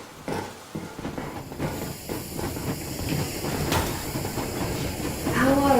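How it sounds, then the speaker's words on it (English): The Aurora steam locomotive from Metro Exodus getting under way, with a steady rumbling rail roll, hissing steam and clattering wagons building louder, while voices talk over it. "Yermak, full steam ahead"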